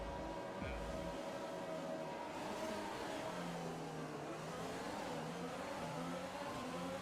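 Formula 1 cars in F1 2020 accelerating off the grid at a race start, a continuous layered engine roar with rising and shifting pitches, loud and unbroken, with no voices over it.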